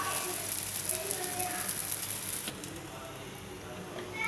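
Coconut boli, a sweet flatbread, sizzling in oil on a hot pan, a soft steady crackle with faint spatter that eases slightly partway through, while a person talks over it.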